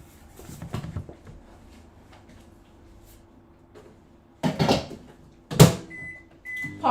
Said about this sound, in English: Popping it in the microwave for like 10 seconds